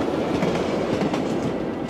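A special passenger train approaching a station rumbles loudly nearby with rhythmic clattering of wheels on rails, a dense continuous roar.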